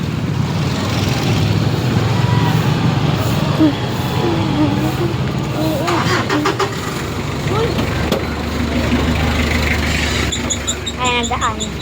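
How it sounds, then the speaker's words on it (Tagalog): A truck engine runs on a road, a steady low rumble under constant background noise with brief squeaks and a higher whine near the end; a person talks over it at times. "May truck kasi yan."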